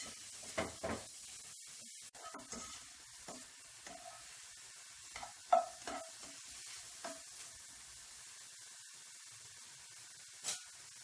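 Meat searing in a pan for a Turkish eggplant dish, with soft continuous sizzling and scattered scraping stirs and clinks of a spoon against the pan, fairly quiet and close with no talking.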